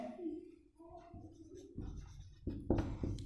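Quiet scratching strokes of writing during a Hindi-language Class 8 geometry lesson, with soft, irregular scrapes and light taps close by over a low room background.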